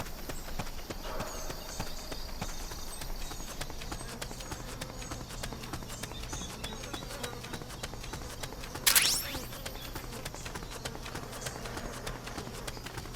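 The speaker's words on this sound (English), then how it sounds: "Those were footsteps!" Footsteps in Metal Gear Solid: Peace Walker, a faint, steady patter of quick steps beneath low game ambience, broken by one short sharp clack.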